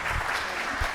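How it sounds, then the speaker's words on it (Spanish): Brief, dense applause from a seated audience at an academic congress panel session, a full wash of clapping filling the whole second with no voices on top. "Un aplauso nuevamente pues para la hermana"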